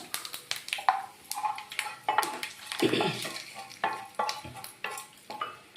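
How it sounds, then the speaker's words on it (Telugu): Mustard seeds splutter and pop in hot oil for a coconut and raw mango chutney tempering, a crackling sizzle with irregular sharp pops and light metallic clinks from a pan close by. "ఆవాలు చిట్టపట్లు ఆడుతున్నాయి కదా"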